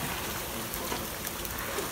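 Rain falling at a guesthouse in São Lourenço, RS, a dense, steady hiss of drops on surfaces with scattered sharper patters, constant and close, with no speech.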